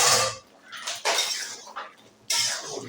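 A metal lid comes off a pot of boiling potatoes, bringing a few close bursts of clattering and hissing steam and bubbling separated by quieter gaps.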